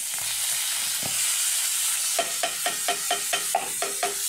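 Argentina corned beef sizzles in a little oil in a pan, a bright steady hiss with a run of rhythmic scraping stirs near the end.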